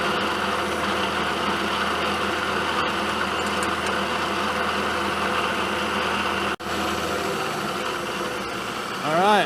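A milling machine with an end mill opens up an existing hole on a sharpening fixture for a horizontal milling cutter, giving a steady, close, loud machining drone. The drone briefly drops out near the end, then resumes.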